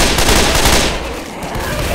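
Rapid, dense video game gunfire from a survival shooter, a loud continuous volley of automatic shots filling the whole moment, close and overpowering, with no voices heard.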